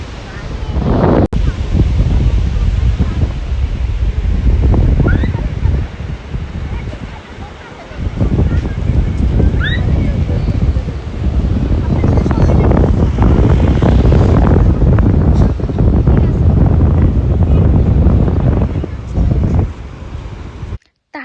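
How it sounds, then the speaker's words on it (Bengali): Strong wind on a Cox's Bazar beach roars and buffets the microphone in loud, continuous gusts, with a brief dip midway and faint surf underneath. "আর এত সুন্দর বাতাস ছিল"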